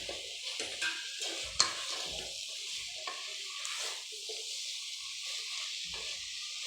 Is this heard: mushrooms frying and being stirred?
yes